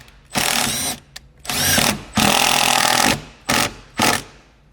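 A power driver runs a screw into an unused, paint-filled factory hole in a Chevrolet Silverado A-pillar, in several loud close whirring bursts of about a second each, starting and stopping as it is driven in and backed out.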